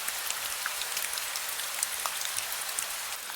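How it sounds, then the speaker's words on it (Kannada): Heavy rain pours at night, used as a horror-story backdrop. Dense, even hiss with crisp individual drops ticking and splattering close by throughout, with no voices. "ಮಳೆ ಜೋರಾಗಿ ಬರ್ತಾ ಇರುತ್ತೆ."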